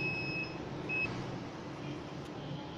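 An XM-18 incubator controller sounds a humidity alarm: two short, steady high electronic beeps near the start, heard over a constant low background hum.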